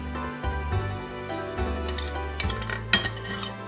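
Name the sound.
spoon adding spices into a cooking pot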